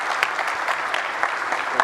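An audience at a conference lunch keynote claps steadily for a short burst, dense overlapping hand claps at moderate distance with a few louder individual claps standing out.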